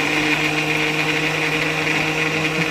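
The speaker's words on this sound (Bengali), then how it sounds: "এবার আমি মিক্সি দিয়ে মিক্স করে" An electric mixer grinder runs steadily and loudly as it blends bananas with sugar, milk, milk cream and cornflour, giving a constant whirring hum with no break or change for the whole stretch.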